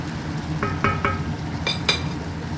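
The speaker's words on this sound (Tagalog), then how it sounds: "Tapos halu-haluin natin ulit para sumuot at hindi masunog, di ba?" Bitter gourd (ampalaya) frying in a pan and stirred, a steady close sizzle broken by a few sharp scraping clinks of the utensil against the pan.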